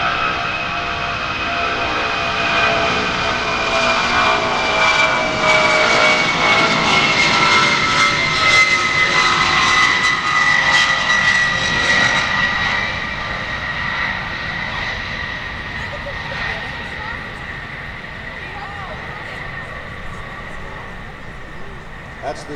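A C-5 Galaxy military transport jet roars on takeoff at an airshow, 168,000 pounds of thrust, a loud, sustained engine whine and rumble that builds and then slowly fades into the distance.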